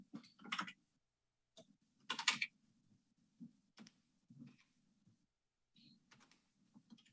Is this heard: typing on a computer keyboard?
yes